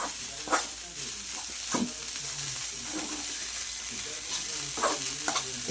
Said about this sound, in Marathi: एक पाच ते दहा मिनटं हलवलं की नाही हे चांगलं मिश्रण तयार होतं बेळचं